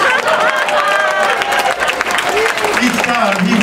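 Comedy club audience at the Joke Joint clapping steadily in a dense wash of applause and crowd noise, with a host's voice talking loudly over it throughout.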